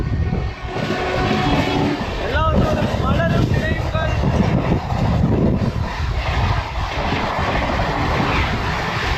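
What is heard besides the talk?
train passing loudly by the railway line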